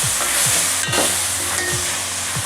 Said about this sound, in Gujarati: ભાજીને સરસ હલાવી અને મિક્સ કરી 2 થી 3 મિનિટ સુધી આપણે ગરમ થવા